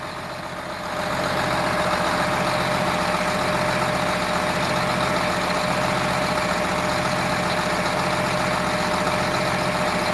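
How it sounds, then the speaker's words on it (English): A heavy tractor engine starts up and then runs at a steady, loud idle with a constant low rumble and mechanical hum. "The tractor was driving."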